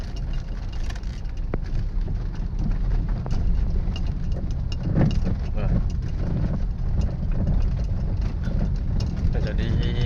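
Rattling from beneath a Suzuki Ertiga driven over a rough, corrugated road, like a loose bolt knocking, heard as a continuous low rumble with scattered knocks under steady road and engine noise.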